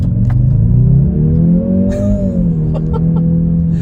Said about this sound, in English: that sound is the most artificial engine sound